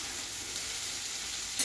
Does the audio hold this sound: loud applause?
no